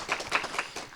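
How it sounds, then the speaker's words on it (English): An audience at a formal speaking event gives a short round of clapping, with a few distinct claps in quick rhythm and moderate loudness. "Big clap for her too, actually"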